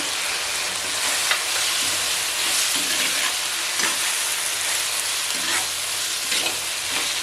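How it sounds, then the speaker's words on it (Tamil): Onion, tomato and grated coconut sauté in hot oil for an eggplant kuzhambu, giving a steady, close sizzle and frying hiss throughout with occasional scrapes of a stirring spoon. "இது கூட தேங்காயும் சேர்த்து வதக்கிங்களா"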